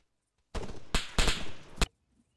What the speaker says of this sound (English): What is that gunfire?